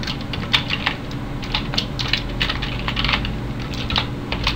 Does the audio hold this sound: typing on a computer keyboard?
yes